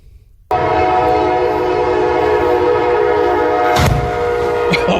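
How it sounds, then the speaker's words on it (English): An Amtrak train's horn blares loud and sustained as the locomotive bears down on a truck on the crossing, and a sharp broadband burst of impact noise cuts through near the end. "the engine of the Amtrak train plows through that truck like it's nothing"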